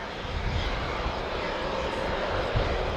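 An Airbus A400M Atlas military transport aircraft in a flying display at RIAT 2017 makes a steep turn, its engines giving a loud, steady, continuous roar with no break for the whole stretch.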